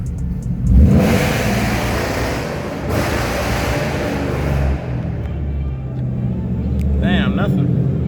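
Ford Mustang V8 two-stepping in a garage setting: loud, deep engine revving held at a stuttering limiter with popping bursts, rumbling continuously and swelling near the end.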